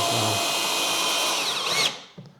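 A Temu power drill whines steadily at close range, its motor pitch wavering near the end before it cuts off, followed by a faint clunk.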